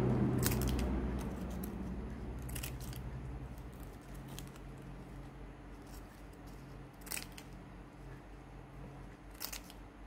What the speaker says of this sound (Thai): ขั้นตอนต่อไปเราจะใช้กรรไกรซิกแซก ตัดปลายออกทั้งสีด้านเลยค่ะ